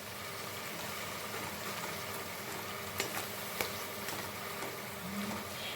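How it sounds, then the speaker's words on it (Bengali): Spice masala for Bengali chitol fish kalia fries slowly in oil over a low flame, a soft, even sizzle that holds steady with a couple of faint stirring taps. "মশলাটাকে এখন আমি সিম আঁচে রেখে আস্তে আস্তে কষিয়ে নেব।"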